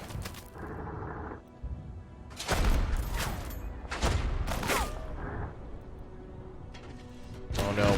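Mortar rounds and explosions crash in a World War II strategy game set in the 1940 German invasion of France, with repeated loud broadband blasts and rumbling impacts clustered across the stretch, one heavy burst near the end.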